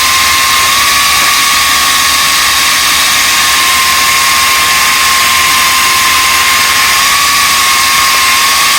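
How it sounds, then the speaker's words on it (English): A buffing wheel loaded with rouge polishes a weld on an LS heater core bypass fitting, producing a loud, steady high whine with a constant hissing roar throughout and no pauses. "we're just gonna hit a little rouge on the buffing wheel, clean this up, get rid of the rainbow on there from the weld"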